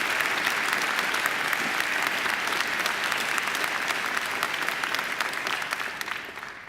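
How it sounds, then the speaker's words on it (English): A graduation ceremony crowd applauds for the graduates' families, a full, dense roar of clapping from a large audience that holds steady and then slowly fades. "I think they deserve a round of applause too"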